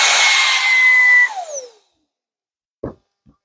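A Ryobi 18V jobsite hand vacuum whines loudly and steadily at close range, then is switched off and spins down, followed by two faint clicks.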